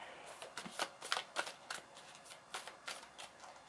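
Tarot cards are shuffled and handled for a reading, making soft riffling bursts and quick papery flicks, close and quiet, with no talk over them.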